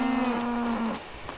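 A single drawn-out cow moo from the video game Coral Island, loud and near, holding a steady low tone for almost a second before fading into quiet background.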